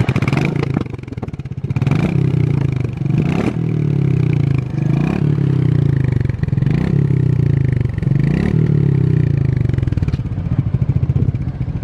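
Royal Enfield Meteor 350 motorcycle exhaust rumbling loudly up close, a deep steady thump broken by repeated throttle blips roughly every two seconds, with no talking.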